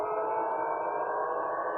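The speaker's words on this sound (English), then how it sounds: "there is a total blackout and just air sirens are working" Air-raid sirens wail steadily over the city of Belgorod during a total blackout, a loud sustained tone holding without a break and no voices.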